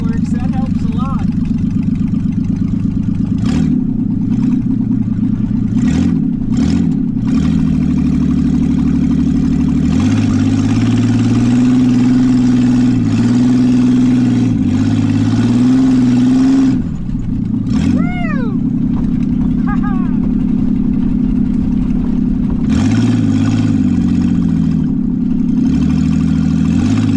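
Ford Bronco II engine running steadily while the truck drives off road, a loud, continuous low rumble that rises and falls with throttle, as people talk over it throughout.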